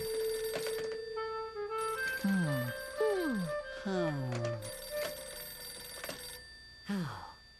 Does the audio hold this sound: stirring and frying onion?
no